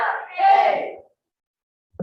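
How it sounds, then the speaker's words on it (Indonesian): A middle-school team, SMP Negeri 3 Malinau Barat, finishes a shouted group cheer (yel-yel) at a school competition, a loud crowd of voices for about a second, then sudden silence and a brief sound at the end. "Itulah tampilan yel-yel dari SMP Negeri 3 Malinau Barat Regu A"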